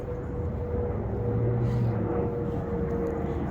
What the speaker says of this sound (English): I don't know if you can hear me with the plane.